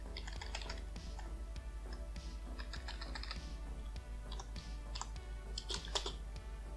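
Close, quiet typing of code on a computer keyboard, a steady stream of light key clicks in short bursts with brief pauses over a low background hum, no speech.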